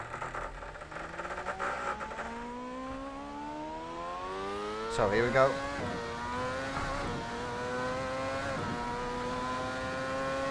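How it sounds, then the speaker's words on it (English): A Lotus Exos 125 with a V8 Cosworth engine in Assetto Corsa, driven onto the Mugello track, revs up with a climbing harmonic whine that dips and rises again with a gear change, loud and close, with someone briefly talking over it. "Now I think the engine is a V8 Cosworth engine. It's just pretty much a Formula 1 engine."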